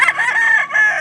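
A rooster crows loudly and close by at a chicken market in Lipa City, Batangas, one strained, drawn-out call with no talk over it.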